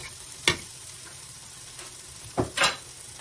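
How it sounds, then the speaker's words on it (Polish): Onion frying in olive oil gives a low, steady sizzle with a few sharp crackles and stirring clatters, close up and with no talking. "I cebulę będę smażył aż ją zeszklę, do momentu aż będzie taka szklista."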